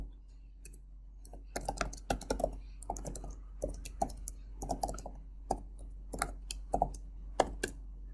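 Code being typed on a computer keyboard: irregular bursts of crisp, close key clicks and taps with brief pauses, over a low steady hum, no voices.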